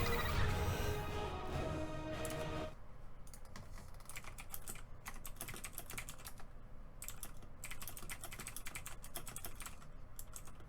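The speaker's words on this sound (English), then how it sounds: "Sorry, I was typing in chat." Rapid clicking on a computer keyboard during a StarCraft match, the keystrokes close and continuous after a brief burst of game sound at the start.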